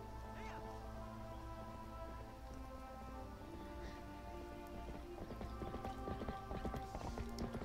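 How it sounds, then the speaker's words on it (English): Hooves clip-clop at a steady gallop over a continuous musical backdrop in The Legend of Zelda: Twilight Princess, the rhythm growing slightly louder toward the end. "Just keep riding that horse."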